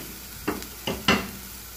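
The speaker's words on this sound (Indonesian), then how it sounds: "Sekarang mau numis bawang merah sama bawang putihnya ya." Shallots and garlic sauté in hot oil in a wok, cooked for chicken wing and potato balado, giving a steady close sizzle broken by three sharp scraping stirs, with no voices.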